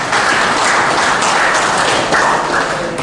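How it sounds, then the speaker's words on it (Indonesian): Loud, continuous audience applause fills a hall at a regional health work meeting in Southwest Papua, a steady dense clatter of many hands with no voices over it. "Tepuk tangan buat kita semua."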